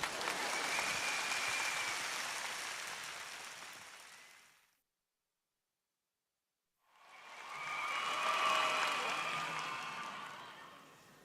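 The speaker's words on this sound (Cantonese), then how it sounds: "俾啲掌聲，阿陳公爵。" An audience at a stage show breaks into two rounds of loud, sustained applause, separated by a couple of seconds of silence, each swelling and then fading.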